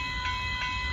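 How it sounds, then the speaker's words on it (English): Southbound Amtrak Texas Eagle passenger train and northbound BNSF mixed freight train passing at a crossing, heard as a steady loud rail rumble with a sustained tonal whine and faint pulsing above it. "Now I'm hooked up to the southbound Amtrak and the northbound freight train on the side."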